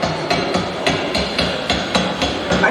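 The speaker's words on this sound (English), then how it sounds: "With the constant hammering against the shell plates, you could hear it all over Belfast." Rapid, regular hammering on a ship's steel shell plates in a Titanic museum exhibit in Belfast, about nine strikes in under three seconds over a dense, reverberant din of riveting.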